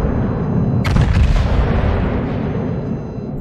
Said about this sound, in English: I shot him again just in case.